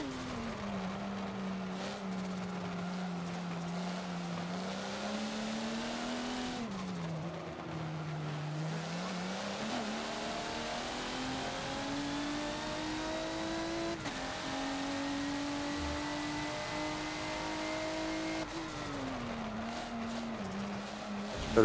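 Race car engine on the Indy GP circuit in Forza, revving steadily with rising and falling pitch through gear changes, loud and continuous, alone without voices.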